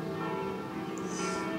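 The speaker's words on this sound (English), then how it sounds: "these bells are going for a long time, damn" Church bells ring on and on in a steady, dense wash of tolling that fills the whole clip at even loudness, with no speech over it.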